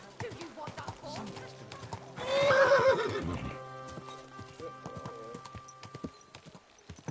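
A horse's hooves clip-clop on hard ground under an excited rider's shouts, then the horse lets out a loud, drawn-out neigh in the middle before the hoofbeats continue nearby.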